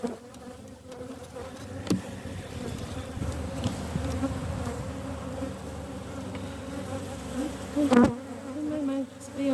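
Honeybees buzz around an open hive, a steady close droning with individual bees zipping past the microphone in louder sweeps, no talking heard.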